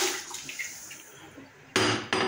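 Water runs and splashes into a cooking pot while preparing beans with oil, a steady close pour with brief louder gushes near the end.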